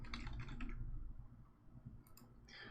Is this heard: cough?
no